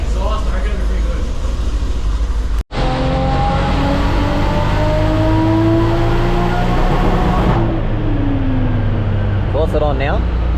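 Nissan Skyline R31 sleeper car with no exhaust fitted, its engine revving up in long rising pulls and falling back, loud and close, with people talking near the car.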